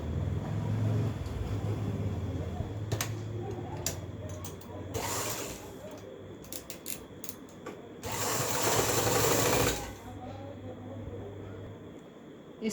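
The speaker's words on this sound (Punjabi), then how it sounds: "ਇੱਕ ਸਾਈਡ ਆਪਾਂ ਸਲਾਈ ਕਰ ਲਾਂਗੇ ਬਰੀਕ ਬਖੀਏ ਦੇ ਨਾਲ" A sewing machine stitching a belt onto a baby dress runs in short bursts, giving a whirring mechanical hum in two longer runs with brief stops and clicks between them, close and steady.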